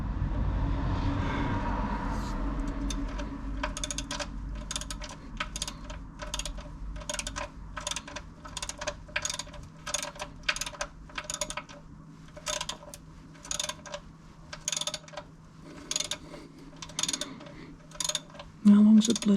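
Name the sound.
ratchet undoing sump plug on Vauxhall Corsa C oil change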